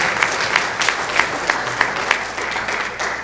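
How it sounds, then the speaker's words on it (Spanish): A church congregation gives a brother a round of applause, dense close clapping with a few louder individual claps recurring at a quick, uneven rhythm, no speech over it. "Aleluya, aplausos a usted"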